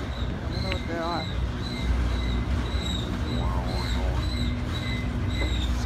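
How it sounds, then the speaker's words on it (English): A train rolls past on a Puget Sound railway in December, a constant rumbling roar with rhythmic tonal squeals and a few wheel-squeal chirps, while a person talks nearby over the noise. "I hope this train picks up speed"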